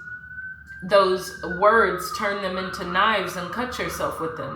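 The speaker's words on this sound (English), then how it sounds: "Please excuse the siren." A police car siren passes outside a home, its wailing tone rising and falling loudly beneath a woman's continuous speech.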